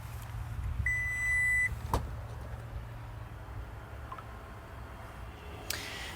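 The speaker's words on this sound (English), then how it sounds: "So you just wave your foot under the bumper to open." The foot-activated power tailgate of a 2020 Toyota Highlander Platinum gives a beep, then opens with a low steady motor hum and a clunk of the latch, heard outdoors at moderate distance.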